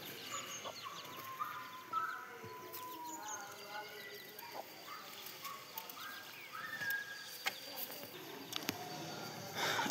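A mother hen and her chicks on a farm, offered for sale, cluck softly alongside high cheeping, with steady low background noise throughout.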